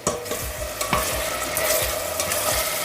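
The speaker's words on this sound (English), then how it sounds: "You hear the simmering." Onions, garlic and a bay leaf simmer and sizzle in melted pork lard in a pan, with close, steady frying crackle and a few soft scrapes of stirring.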